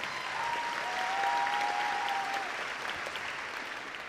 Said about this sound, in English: let's give these 4 girls a round of applause.